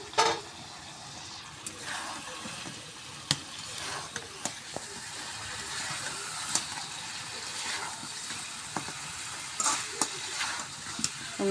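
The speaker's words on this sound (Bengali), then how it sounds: "সুন্দর করে মশলার সাথে মাংসটা মিশে নিব।" Chicken pieces stirred through a thick fried spice paste in oil, a soft steady sizzle under scattered scraping clicks from the spoon, fairly quiet and close, with no one talking.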